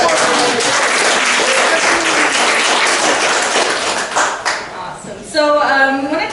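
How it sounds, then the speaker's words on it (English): Audience applause at a talk on Potawatomi heritage cooking and foraging, a steady, loud wash of clapping that fades near the end before a voice begins speaking. "So everybody, please give a round of applause."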